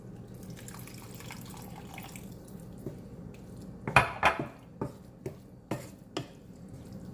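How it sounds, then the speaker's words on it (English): Water poured into a pan of cooking Jamaican beef patty filling, with a soft steady flow and a run of sharp utensil and pot clinks toward the end. "Just gonna add some water to it"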